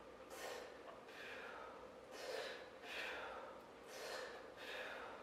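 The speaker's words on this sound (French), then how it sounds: "j'inspire quand je tire et j'expire quand je relâche" Heavy rhythmic breathing during a dumbbell rowing exercise, about five close, loud inhale and exhale cycles spaced roughly a second apart, with no talking.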